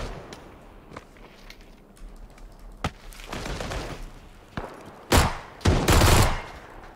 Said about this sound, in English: Oh, I shot. I just shot.